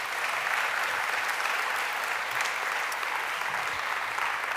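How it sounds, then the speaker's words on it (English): Audience applause at the close of a conference session on the international student experience, a dense steady wash of many hands clapping at even loudness throughout, with no talk over it. "please, a heartfelt round of applause"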